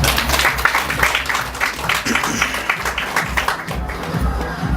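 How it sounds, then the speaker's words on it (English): Applause from an audience at a wedding ceremony, a dense patter of clapping hands that runs steadily for several seconds at moderate loudness. "Give a big round of applause, ladies."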